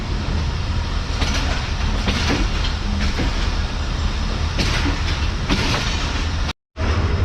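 A train pulls up to the main platform at Khanewal Junction in Pakistan, with a steady loud rolling rumble and rail clatter throughout, a few sharper wheel squeals, and a brief dropout near the end.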